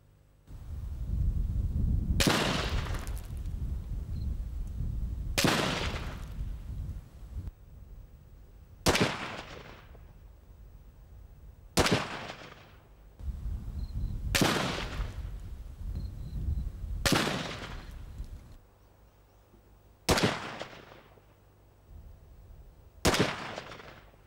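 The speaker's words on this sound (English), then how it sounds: "The greenness of the timber has meant that none of the 10 shots have fully penetrated the tree." Gunshots from small arms fired into a freshly cut 300mm green timber log, eight sharp loud reports spaced a few seconds apart, each with a decaying echo, and no talk.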